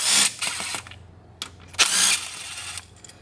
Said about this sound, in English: We're going to go ahead and grab our T30 Torx and remove these two bolts.